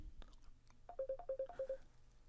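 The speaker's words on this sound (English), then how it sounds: "we're hearing the ringing on this end." A telephone rings on a radio call-in line during hurricane coverage, sounding a short series of warbling electronic ring tones in quick pulses, faint beneath soft room noise.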